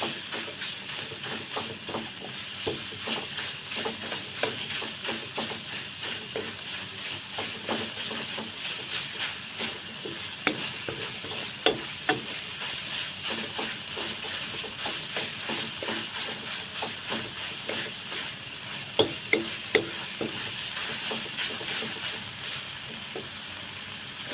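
Pork stir-fries in a pan for nam prik ong, a steady sizzle broken by frequent clicks and scrapes of a utensil stirring, with a few sharper knocks, heard up close with no talking.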